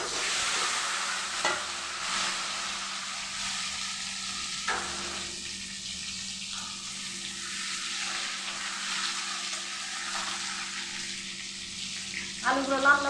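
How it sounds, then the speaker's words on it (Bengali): Potatoes fry in a pan with a constant soft sizzle, broken now and then by the scrape and clack of a stirring utensil, heard close up with no speech. "এবার আমি আলুগুলো ভেজে নেব।"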